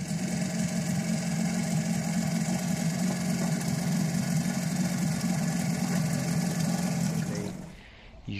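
A Honda B75 outboard engine idles steadily with a constant mid-pitched drone and vibration, close and alone, then cuts off abruptly near the end as it shuts down.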